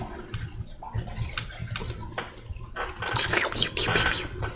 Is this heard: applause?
no